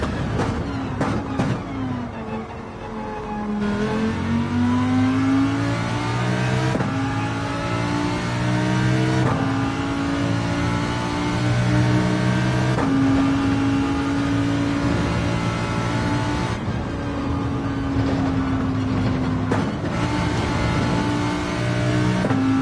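Race car engine in a video game lapping a track, revving steadily with rising and falling pitch as it shifts gears and brakes through corners, loud and continuous throughout with no talking.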